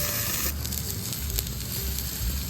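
Red-meat steak cut of beef sizzling on a grill, a steady close hiss with crackling pops throughout and no talk.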